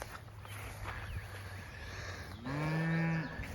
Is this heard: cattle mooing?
yes